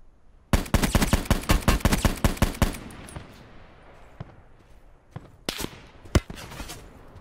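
Loud, close automatic gunfire in a shooter game: a rapid burst of about a dozen shots, a quieter pause, then a few more sharp single shots.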